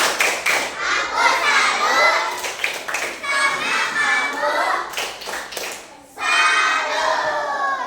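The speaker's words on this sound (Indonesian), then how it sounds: "kita sama-sama kasih tepuk salut untuk kelompok 1 ya" A classroom group of children performs a rhythmic 'tepuk salut' clapping chant for a group of classmates, their claps and thumps falling in patterned bursts under loud chanting voices, with a short pause before a final round.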